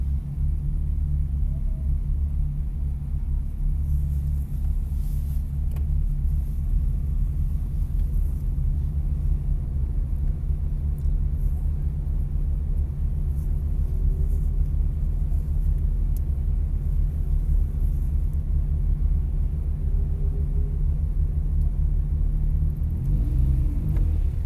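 Deep, steady exhaust rumble from a car on a race track during a track day, a continuous low drone heard from close by for the whole stretch, with no talk.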